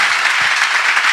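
Congregation at a church live-stream service clapping together as an offering of praise, a steady, dense wash of hands throughout, fairly loud and close, with no voices standing out.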